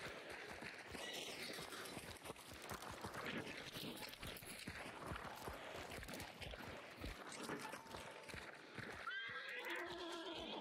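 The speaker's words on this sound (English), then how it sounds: "Go ahead and put that horse down." A horse whinnies in the video game Hunt: Showdown, heard amid busy, dense game sound with a clearer neigh rising near the end.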